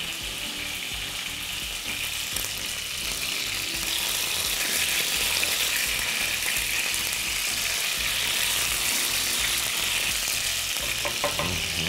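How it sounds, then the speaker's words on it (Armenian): Chicken rolls sizzle and spit steadily in a hot pan with white wine, a loud, continuous frying hiss with faint stirring clatter throughout and no talk. "Բոլոր կողմերից կկարմրացնենք և կհամեմենք սպիտակ անապակ գինով"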